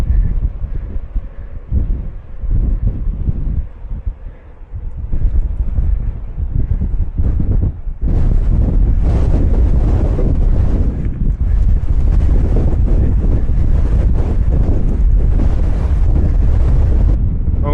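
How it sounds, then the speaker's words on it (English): Strong gusting wind roars across the microphone during a bike race on a mountain road in the Atlas Mountains, a loud, constant buffeting rumble that grows heavier and more sustained in the second half. "the wind is making it a real struggle"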